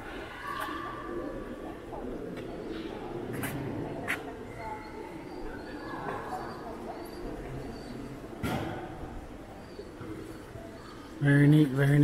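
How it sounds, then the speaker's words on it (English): Pigeons or doves coo inside Batu Caves in Malaysia, soft repeated calls over a murmur of cave ambience and distant voices, with a louder burst of noise near the end. "Got birds and monkeys and water dripping down everywhere."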